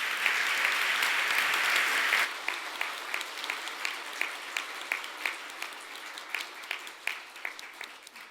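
Audience applause at the Samsung Ho-Am Prize award ceremony, a dense burst of clapping that breaks off after two seconds, followed by scattered, thinning claps from a few hands.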